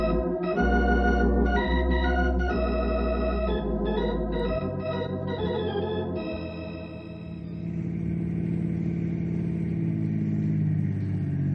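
A car pulls away and drives in an old radio drama, its steady mid-range engine drone taking over after a bright, tonal opening passage and holding fairly loud to the end.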